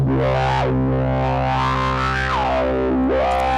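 A screaming, heavily distorted modular synthesizer tone sweeps its filter up and down, harsh and buzzing, with a steady droning low end and no voices.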